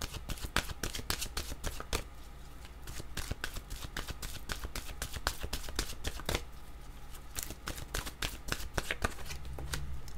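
Oracle cards are shuffled close up in a steady run of crisp, rapid riffling slaps and clicks that continues without a break, with a low hum underneath and no voice.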